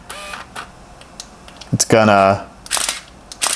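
A Minolta Maxxum 7 film SLR firing in bracketing mode, giving a quick series of sharp mechanical shutter clicks and a short motor whir, mixed in with someone talking.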